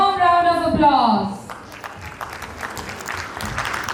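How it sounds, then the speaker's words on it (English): A speaker's voice at a preschool annual day gives way to a warm round of applause from the gathered audience welcoming a guest. The clapping is a moderate, steady patter that carries on alone after the talking stops. "please join me in welcoming Mukul sir with a warm round of applause"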